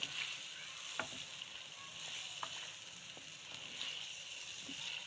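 Cluster beans (gawara) curry roasting in ghee, village-style, with a steady soft sizzle throughout and a few sharp scraping strokes of a spoon against the pan.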